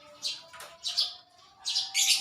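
Small birds chirp near a simple homemade cage built from a flower rack, giving several bright, close tweets in quick bursts with brief pauses between them.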